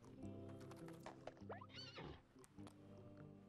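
A horse neighs with a rising, wavering whinny inside the golf game What the Golf?, set over a steady layer of game music and effects, loud and close.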